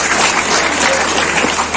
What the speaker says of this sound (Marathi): यानंतर मित्रांनो एक बार जोरदार टाळ्या होत्या।